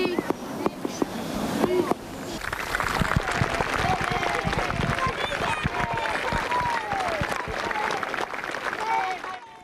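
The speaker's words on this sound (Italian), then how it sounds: "E dopo un grande applauso per ricordarlo" Sustained applause from a crowd gathered at the Casale rugby club in memory of Samuele Lazzari, a steady wash of clapping lasting several seconds after a few scattered claps, with voices mixed underneath.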